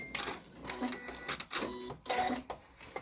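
A sewing machine back-stitching a seam on NHS scrubs, short bursts of rapid mechanical whirring and clatter with brief pauses between runs, close and fairly quiet.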